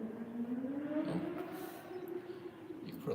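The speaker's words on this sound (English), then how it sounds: "You can probably hear that car in the background." Car passing at a distance outdoors, a faint whooshing engine tone that rises and fades over a few seconds, quiet and steady in the background.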